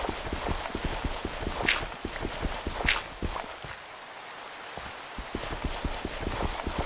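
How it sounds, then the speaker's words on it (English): Steady rain in the video game Minecraft patters continuously on surfaces, with dense, soft drop ticks and a few faint brighter splashes, heard without talk. "this rain sounds really nice."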